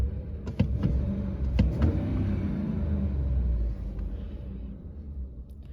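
An old Ford car engine on a winter day, idling with a low, steady rumble and a couple of sharp throttle blips early on before settling back to a smooth idle, close by with no talking.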